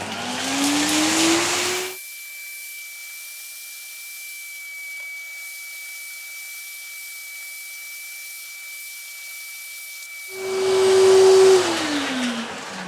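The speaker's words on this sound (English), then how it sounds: "It's a shop vac from Giraffe Tools." A Giraffe Tools shop vac roars close by, sucking up 3D printer filament, with its motor rising and then cutting out. A thin whine lingers through a quiet stretch before the vacuum surges back on and winds down.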